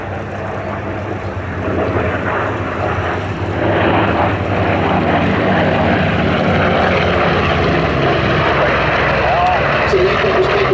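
A propeller aircraft passes over the Sywell airshow in June 2024, its engine roar building after a few seconds and holding as a loud, steady drone, with faint background voices underneath.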